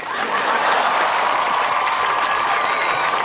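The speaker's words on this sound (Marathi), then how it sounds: "जोरदार टाळ्या झाल्या पाहिजे" An audience applauds after a dramatic reading, dense continuous clapping from a sizable crowd, steady and loud throughout.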